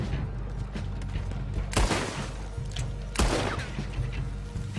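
Two heavy cannon blasts in Red Dead Redemption 2 boom out a second and a half apart over a constant rumbling din of battle, each a sharp loud crack with a rolling tail.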